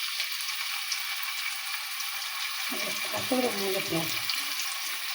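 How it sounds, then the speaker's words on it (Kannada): Garlic and green chili paste fry in a pan with a constant bright sizzle, close by, as a person talks briefly partway through. "ಈಗ ಹಸಿಮೆಣ್ಸಿಕಾಯಿ ಪೇಸ್ಟ್ ಹಾಕ್ತೀನಿ ನೋಡಿರಿ"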